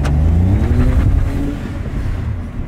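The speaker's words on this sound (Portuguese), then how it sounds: "Então, ó o barulho do turbo." A new manual-transmission turbocharged car revs hard up close, a loud low rumble rising in pitch then easing off, with no talking.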